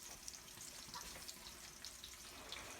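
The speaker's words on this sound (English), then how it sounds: "they just gotta fry a while" Meatballs frying in a pan on a home stove: a faint, steady sizzle with scattered soft crackles and pops, and no voices.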